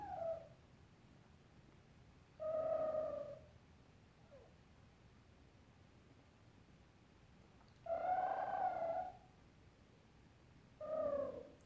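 A fennec fox gives several drawn-out, whiny calls with pauses between them, close up and fairly quiet against a faint background.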